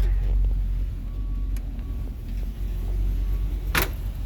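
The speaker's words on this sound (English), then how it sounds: "It's got a cool exhaust note." A truck engine idles with a deep, steady exhaust rumble, and a brief metallic jingle near the end.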